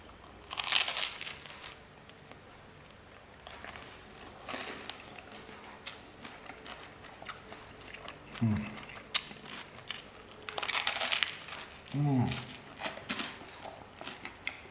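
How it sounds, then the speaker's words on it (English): Several crisp crunches from biting into toasted bread bruschetta, close and fairly loud, spaced a few seconds apart with quiet gaps and faint background noise. "Listen to the crunch."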